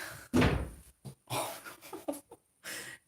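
House cat ramming against a door, a sharp thump with a rattling bang followed by several softer bumps and scrapes, close and fairly loud, with light breathing between.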